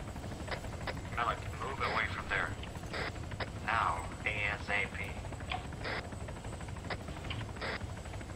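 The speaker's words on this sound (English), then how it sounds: "Malek, I got the chopper, don't you know?" A helicopter in a video game drones steadily in the background, a continuous rotor-like rumble with mechanical noise, running under players talking over one another.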